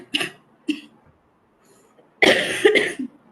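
Coughs from a person with a cold and fever, close to the mic: two short single coughs, a pause, then a louder, longer rough burst of coughing with no talk.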